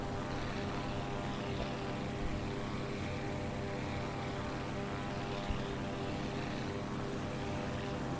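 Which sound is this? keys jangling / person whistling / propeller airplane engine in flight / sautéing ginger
propeller airplane engine in flight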